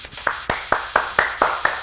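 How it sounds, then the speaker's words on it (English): Seven sharp hand claps in a steady, evenly spaced rhythm, fairly close and moderately loud, with no talking over them. "Everybody clap."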